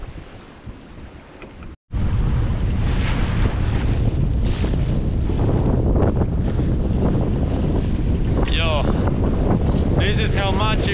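Strong wind roaring across the microphone while a sailboat moves through the sea on an ocean delivery trip, loud and constant after a brief dropout, with water rushing and faint squeaky rigging or whistling sounds near the end.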